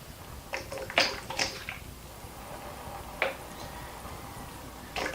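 Coolant poured into a PC hardline watercooling loop, the liquid bubbling from detergent, giving a few soft splashing, gurgling bursts with quiet gaps between them and no talking.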